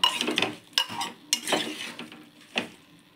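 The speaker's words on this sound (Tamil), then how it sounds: "நல்லா தக்காளி வதங்கிருச்சுப்பா" Chopped tomatoes sauté in a pan and are stirred with a utensil, giving several sharp scraping and clinking strokes over a soft sizzle. Close and fairly quiet, with no talk.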